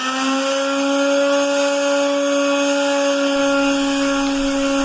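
A large floor sander grinds down a floor with a loud, steady motor drone that holds an even tone for the whole stretch, with no talk over it.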